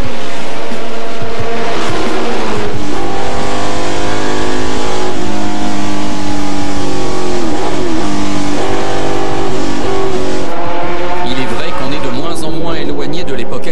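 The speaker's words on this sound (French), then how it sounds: "Pour le plateau 5, le départ est donné lancé," Classic race cars from 1966 to 1971 roar through a rolling start at the Le Mans Classic, their engines loud and continuous with rising and falling revs, under steady commentary.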